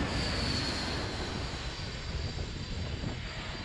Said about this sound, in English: they just cheer on the planes that are landing and taking off